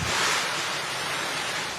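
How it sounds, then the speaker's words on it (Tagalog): Strong typhoon winds and rain lash Bontoc, Mountain Province, during Typhoon Pepito, a steady loud roar of gusting wind and downpour that holds unbroken for the whole moment with no voices. "Hinagupit ng malalakas na hangin at ulan ng Bontoc Mountain Province sa kasagsagan ng bagyong Pepito."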